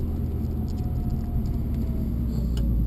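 A Subaru Impreza STI 240 hp engine drones with a steady low rumble heard from inside the car while accelerating on a race track, loud and constant over a few seconds.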